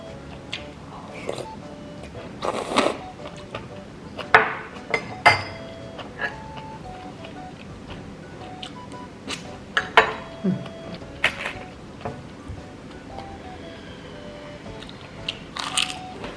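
Breakfast with mushrooms at home: dishes and cutlery clink sharply now and then, with crunchy bites and chewing in between, close and fairly quiet.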